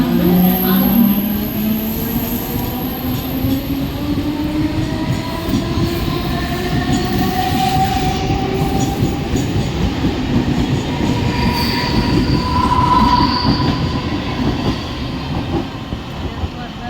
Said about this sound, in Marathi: 11:17 की परेल जाने वाली धीमी लोकल होने के समय में प्लैटफॉर्म क्रमांक 2 पर आ रही है